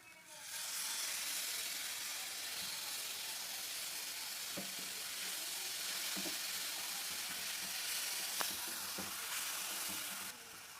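Tamarind water poured into a hot pan of ulli theeyal, the Kerala shallot curry, already seasoned with chili powder and asafoetida. A loud, steady sizzle and hiss runs throughout, with a few faint taps scattered over it.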